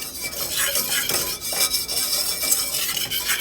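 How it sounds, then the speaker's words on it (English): Whisk stirring dry baking ingredients and salt in a bowl for a blueberry dessert, a steady close scraping swish with light metallic clinks against the bowl, continuous with no talk. "Whisk that together."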